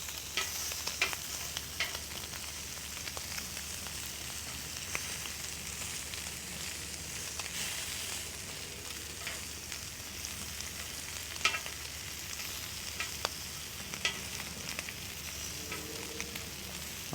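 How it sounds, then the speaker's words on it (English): Lamb chops sear in a hot pan or on a griddle with a steady, fairly quiet sizzle that crackles and pops intermittently throughout. "Like this first one I just put on is already seared."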